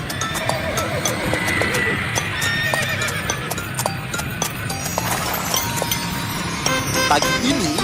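A horse drawing a carriage clip-clops steadily on the road, with a whinny or neigh rising among the hooves and faint traffic in the background.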